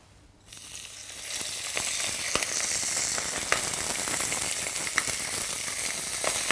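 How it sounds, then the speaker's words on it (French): Chicken supreme searing skin-side down in a cocotte with salt: a loud, dense sizzle bursts in suddenly and then holds steady and close, with scattered sharp pops and crackles throughout and no talking. "Je colore d'abord le côté peau de façon à saisir mon suprême."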